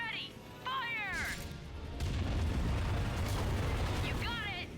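Ship cannons fire in the Ratchet & Clank space battle, a run of deep booming blasts rumbling heavily and continuously, with bright chirping game effects sweeping over the top.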